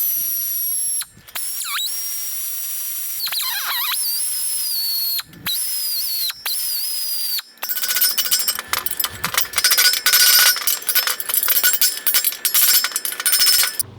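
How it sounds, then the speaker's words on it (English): Welding a piece onto a rusty axle housing during a restoration: a dense, loud, crackling buzz in uneven bursts, after earlier stretches of high whining tool noise broken by short gaps. "I'm just going to weld it on over here."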